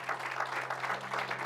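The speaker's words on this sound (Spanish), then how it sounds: "¿Alguien quiere darle un aplauso al Señor?" Congregation applauding for the Lord during a church service, a short burst of steady, fairly quiet crowd clapping with a low hum underneath.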